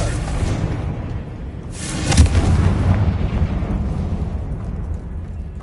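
A Confringo blasting spell goes off in Hogwarts Legacy on PS5 Pro: a steady roar of rumbling game combat, then a sharp, bright explosive burst about two seconds in that fades into a lingering low rumble.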